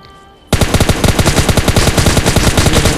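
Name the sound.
shotgun and SKS gunfire in PUBG Mobile Lite video game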